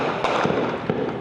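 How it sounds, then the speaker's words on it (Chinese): Continuous gunfire during a police raid in a Rio de Janeiro favela in Brazil: a few sharp cracks burst out over a dense, noisy background within a short moment. "会当听到连续的枪声"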